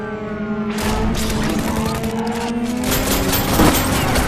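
Pistol gunfire in the VR game Runner, a loud dense stream of rapid shots and crashes mixed with tonal electronic game sounds, continuous throughout.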